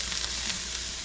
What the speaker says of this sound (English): For now I'm just gonna cook up the breast that I cut out.